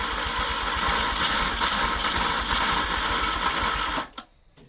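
A Peugeot 104 engine tries to start after long storage, cranking in a steady rapid chugging rhythm, loud and close, until it cuts out abruptly near the end.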